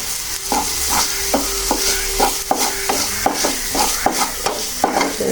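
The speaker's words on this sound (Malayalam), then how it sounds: "ചോറിപ്പോ പൊരിയാവും." Cooked rice fries with ketchup in a pan under a steady sizzle, while a spoon scrapes and stirs in a regular rhythm of close, distinct strokes.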